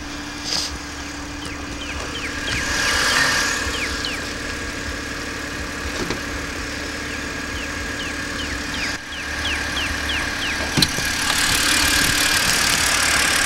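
A 2011 BMW 328i xDrive with a 3-liter inline six idles steadily at moderate distance, a smooth continuous hum with faint ticking and a few light clicks, no voices present.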